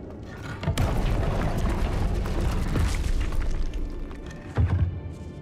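Confringo blasting spells explode in Hogwarts Legacy, several heavy booms with deep thuds and crackling debris, one sharp burst early and another near the end, loud and close with no talk.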